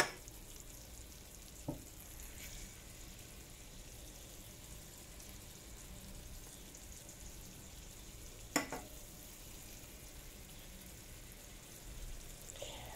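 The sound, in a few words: cooking black gram dal with fish head in a pan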